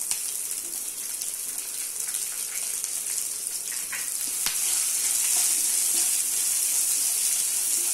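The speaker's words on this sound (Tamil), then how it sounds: "கொஞ்சம் ஆனியன் நல்லா வதங்கட்டும்" Onions sautéing in a pan with garlic and dried red chilies for Tamil-style tomato chutney: a continuous close sizzle and hiss that grows slightly louder partway through, with faint clinks and no talking.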